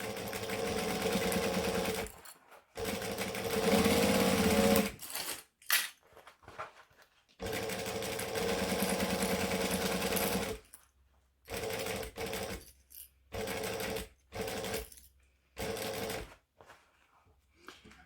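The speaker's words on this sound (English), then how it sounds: "pick a spot to start, and off we go" A sewing machine back-stitching a vinyl circle bag runs in several close, whirring bursts of rapid needle chatter, some longer and some short, separated by brief silent pauses.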